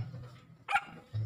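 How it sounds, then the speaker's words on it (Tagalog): A dog barks once, a short sharp bark standing out over a quiet background with faint low murmuring around it. "Patahol ka ng tahol."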